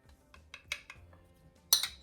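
Spoon stirring cauliflower with amchur and salt in a bowl, a few soft scrapes followed by two sharper metallic clinks near the end, close and fairly quiet.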